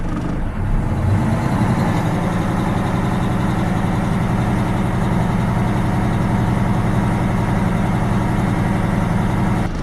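A truck engine idles steadily during a pre-trip inspection at a truck driving school, a loud, close, unbroken low diesel rumble with a fine rapid pulse.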